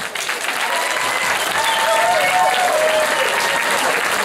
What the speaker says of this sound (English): give a round of applause for these two fighters